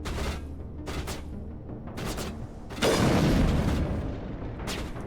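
A grenade explodes in a video game: a sudden loud, broad burst of noise that lingers, following several shorter gunfire-like bursts, with no speech.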